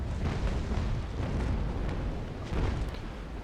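Ship cannons firing a broadside in the naval combat game Naval Action, a continuous rumbling wall of heavy booms and blasts with a couple of stronger swells, loud and dense throughout with no talking.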